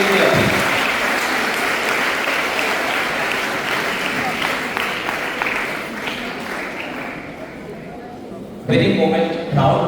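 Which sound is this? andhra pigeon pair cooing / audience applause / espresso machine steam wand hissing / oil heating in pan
audience applause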